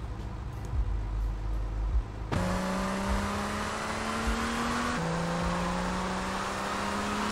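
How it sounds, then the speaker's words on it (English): A Comet sports car engine in GTA Vice City drones steadily with rising gear-like pitch sweeps that step up and shift, continuous and fairly loud without talk. "I hear a car."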